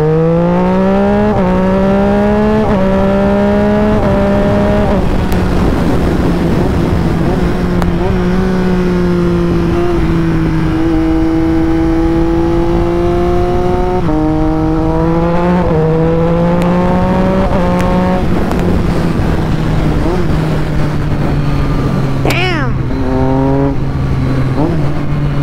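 A modified motorcycle engine revs repeatedly and loudly up close, its pitch climbing and falling in smooth throttle sweeps with a steady rumbling idle between them, and no talk over it.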